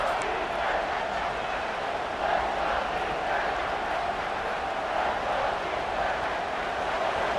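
Stadium crowd roaring in the video game EA College Football 26 during a Georgia versus Ohio State game, a dense, steady roar that holds at an even level throughout with no clear talk.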